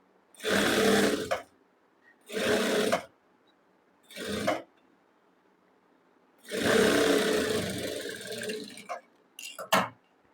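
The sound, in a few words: sewing machine stitching a kurti sleeve seam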